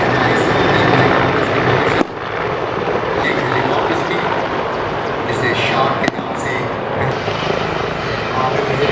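A military helicopter flying at a Pakistan Day Parade demonstration over Shakarparia Parade Ground in Islamabad gives a loud, close, continuous rotor roar throughout, while a commentator speaks over it.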